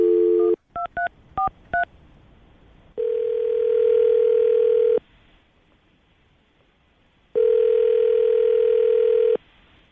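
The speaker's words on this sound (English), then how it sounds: "we're going to call him right now, see if we can get him on the phone." A telephone call being placed: a quick run of touch-tone dialing beeps, then two long ringback tones separated by silence, loud and clean as if heard straight through the phone line.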